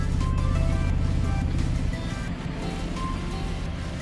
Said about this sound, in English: From just the sound of it from the outside, the car runs really well.